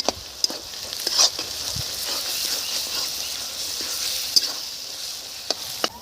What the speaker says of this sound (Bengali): দিয়ে দিচ্ছি রসুন বাটা। রসুনটা একটু নেড়ে নেব 1 মিনিট।